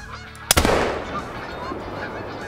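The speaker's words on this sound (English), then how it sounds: "Oh, and there's geese over there." A sharp bang is followed by geese honking in the hunting game Call of the Wild, a brief loud burst of calls fading into a lingering outdoor ambience.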